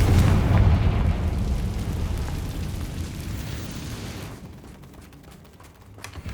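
A Confringo fire spell explodes in Hogwarts Legacy, beginning with a loud, deep blast that rolls into a long rumbling roar and fades gradually over several seconds, with no voices over it.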